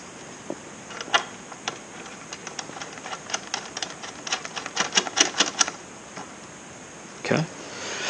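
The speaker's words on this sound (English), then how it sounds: "And then I always zip tie a bunch of this stuff together too, just to make it look cleaner." Zip ties being ratcheted tight on a KTM Duke 690 motorcycle, a series of quick close zipping clicks that cluster into a fast burst, then a short rustle.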